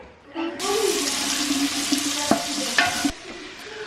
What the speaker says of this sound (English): I don't think there's a better smell on earth than onions cooking in bacon grease